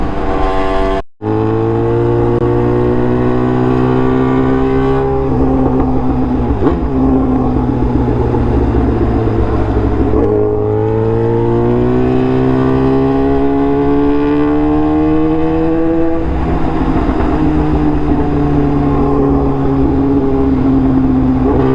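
A tuned Suzuki GSX-R1000R sport bike rides through city streets, its loud engine droning continuously close up with rising and falling pitch as it accelerates and shifts, plus one brief cutout near the start.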